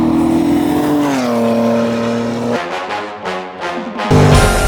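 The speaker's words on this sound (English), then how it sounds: "Wheel spin." Gutted BMW track car accelerating hard with wheel spin, a loud close engine roar climbing and dropping in pitch through gear changes, with a burst of rising revs near the end.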